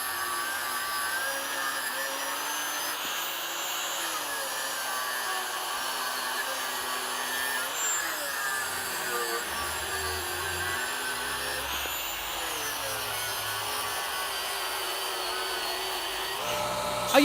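A power tool cuts a section from the center of a reclaimed steel horseshoe, a steady, loud high-pitched whine and grind that holds evenly throughout with slight shifts in pitch.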